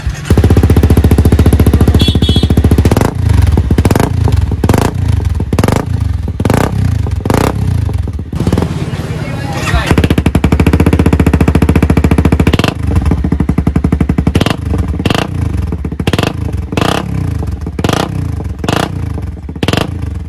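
A Honda CBR 250R motorcycle engine runs with an aftermarket exhaust, loud and close, with a steady rapid thumping idle broken by repeated throttle blips and revs throughout.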